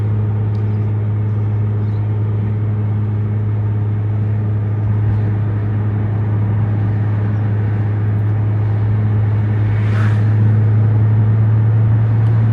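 A Nissan GT-R on a test drive gives a steady, loud low engine drone and road rumble from inside the cabin, unbroken for several seconds, with no one speaking.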